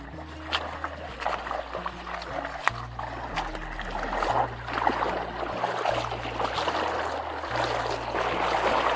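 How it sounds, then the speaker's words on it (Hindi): A fast-flowing mountain stream rushes steadily over rocks in hilly jungle terrain, a close, continuous wash of water under a low droning hum. "तो पहाड़ी पानी का स्पीड भी थोड़ा ज़्यादा होता है"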